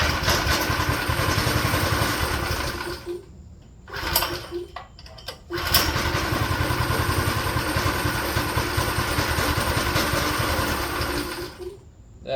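Small go-kart engine running rough with an unhappy piston, a loud buzzing idle that stumbles and cuts out twice before catching again, then chugs on unevenly.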